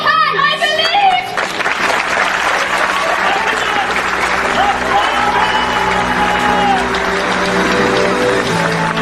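An audience claps steadily through a theatre scene, children's voices calling out at the start, the dense clapping holding loud and continuous to the end.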